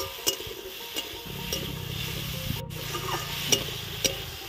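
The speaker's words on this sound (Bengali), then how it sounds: "ভালো করে এবার ভেজে নেব, লাল লাল হবে" Ridge gourd and potato pieces with green chili fry in a pan, giving a soft continuous sizzle punctuated by sharp, evenly spaced utensil taps and scrapes.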